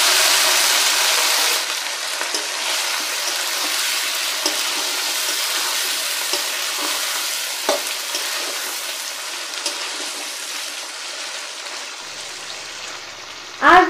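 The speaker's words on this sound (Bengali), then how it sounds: "আলু ভাজার ওই তেলেই পেঁয়াজ কুচি দিয়ে ব্রাউন করে ভেজে নিব।" Chopped onions sizzle steadily in hot oil left over from frying potatoes in a pan, a dense bright hiss lasting throughout, with occasional soft stirring scrapes and a clunk at the end.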